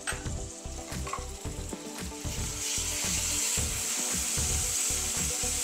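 Onions sizzle and fry steadily in a hot pan for a Telugu spinach dal tempering, with a dense crackling hiss that grows fuller and louder after a few seconds, alone with no talk.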